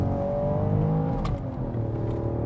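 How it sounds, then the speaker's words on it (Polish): A Ford Puma's three-cylinder engine revs steadily at high rpm, a close, continuous mechanical drone heard from inside the car with a rising tone and no talk over it. "on chętnie łapie te obroty, wchodzi sobie na 4000"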